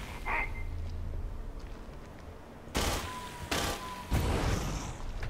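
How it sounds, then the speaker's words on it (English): Gunfire in the video game Aliens: Colonial Marines aimed at an alien egg: three loud broadband bursts at a steady interval, each sharp and close, over a low game ambience with an earlier brief chirp. "I'll let you shoot the egg."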